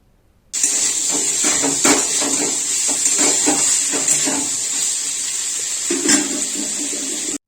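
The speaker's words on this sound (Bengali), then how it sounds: "এবার পরিমাণ মতন জল দিয়ে দিতে হবে।" Water is poured into a pan of paneer, potato and boiled chickpea curry with spices, giving a steady hissing splash that runs for several seconds with light clinks of a utensil.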